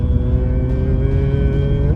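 Audi car driving and accelerating, a steady close engine drone with rising harmonic tones as it gains speed, continuous and fairly loud with a low rumble underneath.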